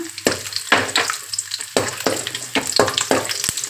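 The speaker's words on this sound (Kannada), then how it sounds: "ನಾನೀಗ ಬಾಣಲಿಗೆ ಮೂರಿಂದ ನಾಲ್ಕು ಚಮಚ ಎಣ್ಣೆ ಹಾಕ್ಕೊಂಡಿದ್ದೀನಿ ಈಗ ಮೊದಲನೇದಾಗಿ ಬೆಳ್ಳುಳ್ಳಿ ಹಾಕೋಣ" Garlic frying in three to four spoons of hot oil in a pan for a fish sambar, a loud close sizzle broken by repeated scraping stirs in an uneven rhythm.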